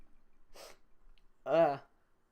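A man gives a single sharp sneeze, close to the microphone: a brief breathy intake first, then a loud explosive burst with a voiced tail, in an otherwise quiet room.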